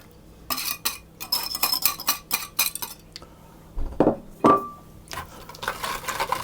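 A whisk beats mashed banana into muffin batter in a bowl, giving bursts of quick, bright metal clinks and taps against the side, with short pauses and a couple of duller knocks, nearby and without speech.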